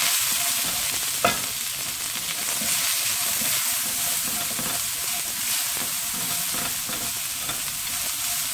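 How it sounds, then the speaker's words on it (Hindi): Cabbage and other vegetables fry over high heat in oil for Chinese-style Singaporean rice, giving a steady, close sizzle with the scrape of stirring and one sharp clack near the start. "अब इसी तेल में हम अपनी वेजिटेबल्स जो है फ्राई कर लेते हैं।"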